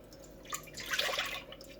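Milk is poured into a pan for a San Francisco silk pie, a short, close liquid stream that swells into a splashy burst midway and then tapers off, alone without talk.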